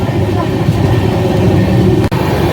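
Aboard the Dhauli Express nearing Bhadrak station, a loud, steady low rumble of the moving train fills the scene, with one brief dip near the end.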